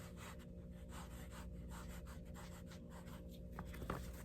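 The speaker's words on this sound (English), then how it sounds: "We're going to sand." Sandal footbed being hand-sanded into a slight concave, a steady rhythmic scratchy rubbing repeated in short strokes, close and moderately loud, with a couple of sharper scrapes near the end.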